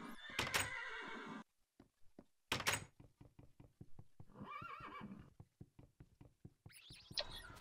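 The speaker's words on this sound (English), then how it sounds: "I'm like trying not to hit my horse." A horse in the Minecraft video game neighs in sharp bursts near the start and end, mixed with rapid clip-clop hoofbeats, blocky wooden knocks and door sounds, all crisp and close in the game's sound effects.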